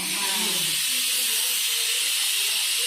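Steam hisses steadily from a new pressure cooker in a home kitchen, a loud, continuous, close-up rush that holds for the whole stretch with no talk over it.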